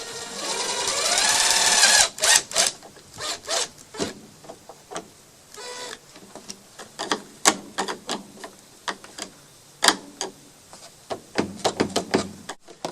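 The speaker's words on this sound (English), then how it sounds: "I'm going to shoot this 1 1/4 inch screw in." A power driver sinks a 1 1/4 inch screw into wood on a chicken coop composter, a brief high whirring burst at the start followed by a scatter of short taps and handling clatter.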